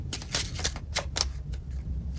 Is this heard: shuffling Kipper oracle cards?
yes